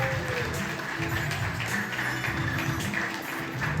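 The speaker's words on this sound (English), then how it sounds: "A big round of applause for Direk Lee Briones" Audience applause for director Lee Briones at a filmmakers' camera event: a steady wash of clapping at moderate level, with a low hum or music underneath throughout.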